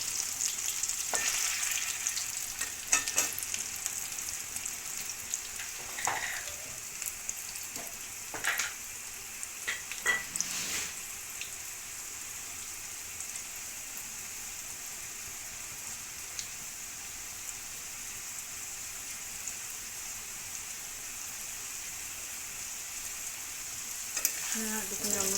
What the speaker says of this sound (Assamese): আলুখিনি অকণমান ৰঙচুৱা হোৱালৈকে ভাজিম।